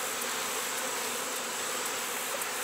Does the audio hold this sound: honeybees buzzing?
yes